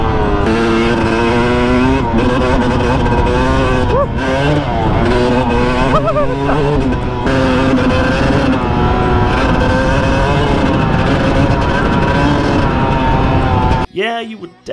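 A Suzuki DRZ400 dirt bike ridden on a trail, its single-cylinder engine droning loudly and steadily up close with rising and falling revs, a brief rustle at the very end.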